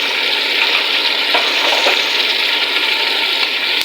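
Ginger garlic paste and tomatoes sizzle and fry in a hot pan, a steady loud crackling hiss with faint scraping stirs throughout, no voices.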